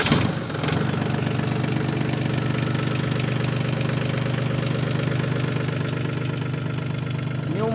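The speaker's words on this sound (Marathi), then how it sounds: "सेल्फ स्टार्ट ट्रॅक्टर आहे।" A new 2025 Target 625 4x4 self-start tractor with only 35 hours of use idles steadily close by, a rhythmic low diesel chugging that stays even throughout after a brief start.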